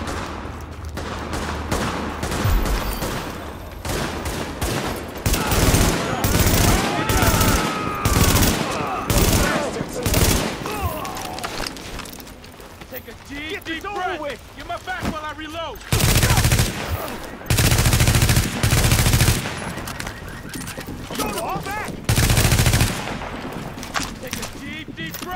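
Bursts of gunfire from The Division, with rapid automatic volleys and heavy fusillades that come and go in loud clusters, alongside in-game voices and combat chatter.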